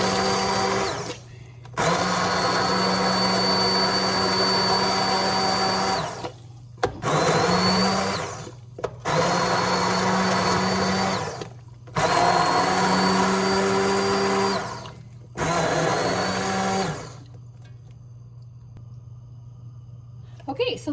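A hand blender whirs through squash soup made with onions and olive oil, running in four loud, close bursts separated by short pauses before stopping, with a voice talking over it.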